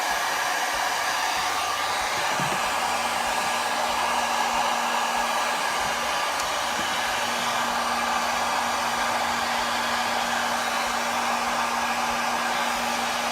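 A heat gun blowing hot air over light tint wrap lettering on a Porsche, a steady continuous whoosh with a low motor hum that stays loud and unbroken throughout, with no talking.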